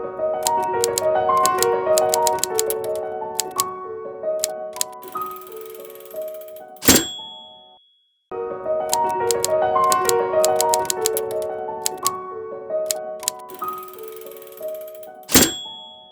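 Typewriter keys clack in quick bursts, with a carriage-return bell and a heavy thunk of the return lever, heard twice in a row as repeated old-film comparison footage.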